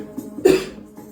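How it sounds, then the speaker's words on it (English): A single sharp cough bursts out close by, brief and loud against a quiet room background, with a fainter throat-clearing sound just before it. "Excuse me for coughing"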